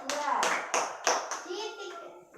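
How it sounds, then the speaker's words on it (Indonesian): Sixth-grade children in an Indonesian primary classroom clap together in several strong, rhythmic bursts, close and lively, with young voices calling out between and over the claps. "Silakan duduk tepuk tangan untuk kelompok 2."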